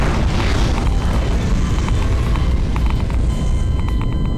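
Bombs going off in the Garry's Mod video game, a dense, continuous roar of booming blasts with rumbling low end that fills the whole stretch, loud and unbroken, with no clear gaps between detonations.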